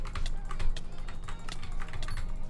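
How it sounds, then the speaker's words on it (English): A computer keyboard clatters with fast, continuous typing during a Minecraft Speed UHC match, the keys close and fairly loud, with no talking. "Sorry if you also hear my keyboard."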